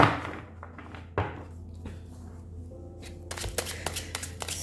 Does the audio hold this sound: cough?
no